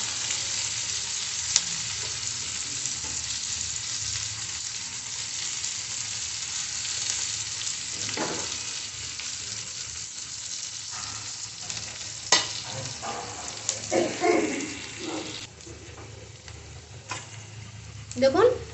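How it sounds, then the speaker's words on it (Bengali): Onions sizzling and frying in a pan, a steady hiss with occasional scraping stirs and clinks of a utensil, fairly close and soft, with no talk. "পেঁয়াজটা একটু ভালো করে ভেজে নেব।"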